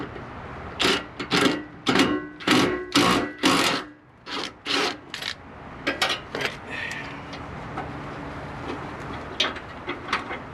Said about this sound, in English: So I'm just going to use an impact, and I think it's a 12